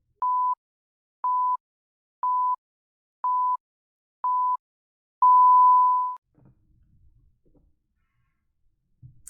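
Five short, evenly spaced electronic beeps from a countdown timer, then one longer sustained tone ends it, followed by near silence with faint low rustling.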